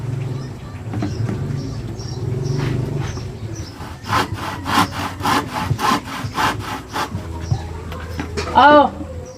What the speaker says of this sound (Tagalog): pakinggan ninyo, dito ka naglalagari.